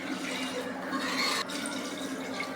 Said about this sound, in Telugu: మూడు గ్లాసులు వాటర్ వేసుకున్నాం